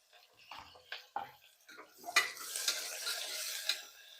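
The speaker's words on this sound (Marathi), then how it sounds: "कांदा असा लालसर परतून घ्यायचा आहे" Crushed garlic, chopped green chili and onion frying in hot oil, a steady sizzle that builds and holds after a few stirring scrapes and clinks near the start.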